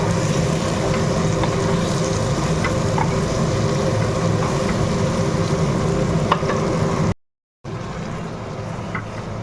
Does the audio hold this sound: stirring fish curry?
yes